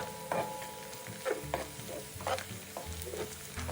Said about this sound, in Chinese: 放入油锅内，中火油炸至金黄色